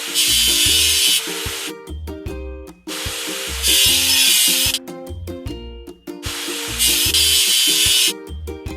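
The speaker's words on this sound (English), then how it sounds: "Let's get rid of the machine's rust." Rust is scrubbed off a machine in a kids' construction video game, loud bursts of harsh rasping that repeat in a regular on-off cycle about every three seconds, over bouncy cartoon music.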